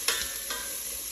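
Onions cooking in a pan in a food truck test kitchen, a brief steady sizzle with a couple of quick stirring clicks near the start.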